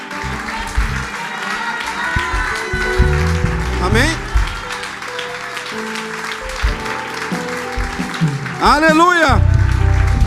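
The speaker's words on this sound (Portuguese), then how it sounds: "Vamos aplaudir ao Senhor." Church congregation applauding during a worship service, dense clapping running under a preacher's loud amplified voice and shouts from the crowd.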